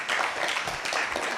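An audience gives a round of applause during a devotional class, a dense continuous patter of clapping lasting just over a second.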